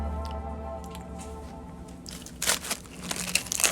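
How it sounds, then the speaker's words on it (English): Ice being crunched between the teeth while eating, a run of sharp crackling bursts close to the mic that thicken toward the end over low background hum, with no talk. "My teeth are gonna get crunched after this because I'm eating ice."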